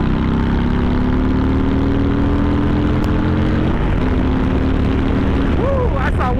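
A 2020 Harley-Davidson FXBB motorcycle with Bassani Sweepers exhaust roars steadily on a road, a loud continuous engine drone with rising pitch as it accelerates, mixed with heavy wind rush.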